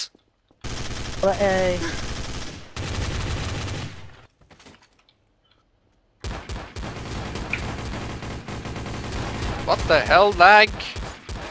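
Gunfire crackles in the TTT video game as rapid bursts of shots, broken by a short silent gap, while players talk excitedly over the shooting.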